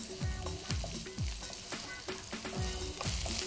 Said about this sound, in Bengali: এটা একটু হালকা ভেজে নিতে হবে, কারণ গ্রিন ক্যাপসিকামের একটা সুন্দর ফ্লেভার থাকে